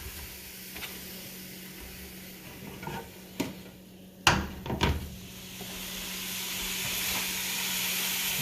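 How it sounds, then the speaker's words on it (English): Pork browning in a pan for posole gives a soft, steady sizzle and hiss, with a few sharp clatters of stirring midway and the frying growing louder toward the end. "you toss it into the pan. And you're going to lightly brown the meat"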